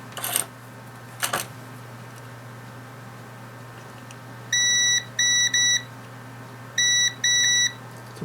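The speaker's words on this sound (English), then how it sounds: "we've got multimeter, which will do continuity mode. Test the probes." A multimeter in continuity mode beeps as its probes touch during an old Jaguar S-Type key repair: several sharp, steady electronic tones in short bursts, some back to back, loud over a low background hum, with two brief clicks earlier.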